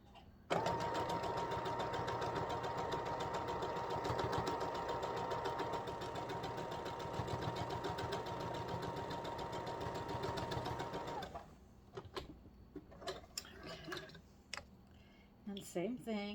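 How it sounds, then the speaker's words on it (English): A sewing machine runs steadily for about eleven seconds, stitching fabric down while making a scented hot mat, then stops, leaving faint handling clicks and rustles. "And you're going to sew that down."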